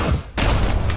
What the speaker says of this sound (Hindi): तभी एक विस्फोटक आवाज गूंज उठी।